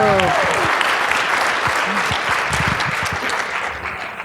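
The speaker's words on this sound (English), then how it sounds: "Let's give a warm round of applause for Carole Freeman" A conference audience at a keto event applauds a speaker, a broad, steady wash of clapping from many hands that tapers slightly, with a voice briefly heard at the start.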